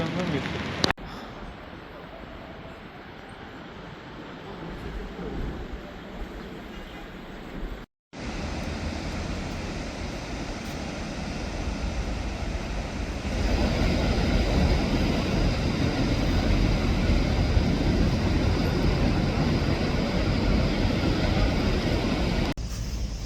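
Rain falls on Atakum beach as sea waves wash ashore, a steady broad hiss and rumble that thickens in the second half, with brief cuts and talk under it.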